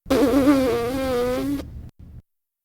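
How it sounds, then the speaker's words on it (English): Lips buzz together for trumpet playing, producing a steady reedy drone that lasts about one and a half seconds and then stops, followed by a brief faint breath, heard close and alone. "This will create a buzzing sound that sounds like this."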